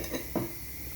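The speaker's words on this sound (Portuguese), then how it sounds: "se eu tô lavando a louça é porque eu tinha comida em casa" Dishes being washed by hand at home: two brief clinks of crockery and cutlery close by, over a steady hiss of running water, with no talking.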